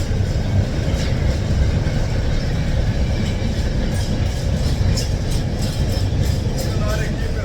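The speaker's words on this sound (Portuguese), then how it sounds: "enquanto passa o comboio" A train rolls past on a Portuguese international rail corridor, a steady loud rumble with rhythmic wheel clatter that runs the whole time.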